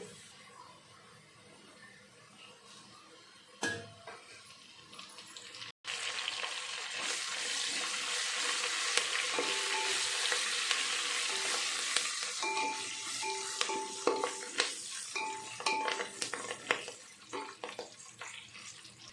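Onions and curry leaves fry steadily in a pan for Rayalaseema-style uggani, a continuous close sizzle with occasional stirring clinks and scrapes, with no talking.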